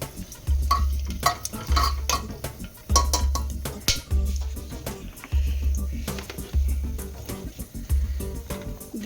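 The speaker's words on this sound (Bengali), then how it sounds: "গরম মশলাটা ঢেলে দিলাম" Whole garam masala and a bay leaf frying in hot oil, a gentle sizzle under rhythmic stirring scrapes that repeat roughly every second, close and steady, with no voices.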